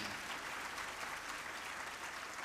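Listeners gathered for a Hindi religious discourse keep up continuous, evenly spread clapping for a couple of seconds, a full crowd sound at moderate level with no speech on top.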